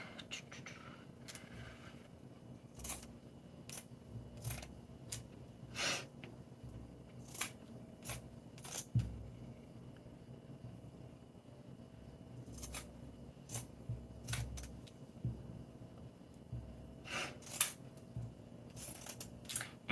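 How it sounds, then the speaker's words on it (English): Scissors snip through fabric strips in a quiet room, a series of short, crisp, close cuts arriving in irregular bursts with pauses between them. "Make sure that you're cutting through both strips and just go"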